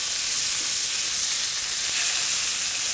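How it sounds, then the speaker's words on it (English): Salmon fillet frying in a pan just after being flipped, giving a steady, loud, broad sizzle with a hissing spitting texture that holds evenly throughout, with no voices. "after 3 minutes, flip the salmon"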